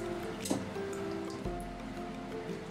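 Tomato-based salsa is poured over stuffed peppers in a kitchen, giving a brief wet splash and soft dripping against a steady low background hum.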